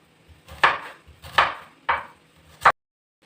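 An onion being sliced with a knife, cut not too finely, for a Negresco pasta dish: four crisp, separate cuts land in close succession, each a sharp knock of the blade through the onion onto the board, recorded close with no talking.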